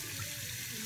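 Water runs steadily from a bathroom sink tap onto a washcloth, a constant close rushing hiss with no voices.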